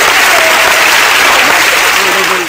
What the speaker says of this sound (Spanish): Aplauso, por favor, magazo.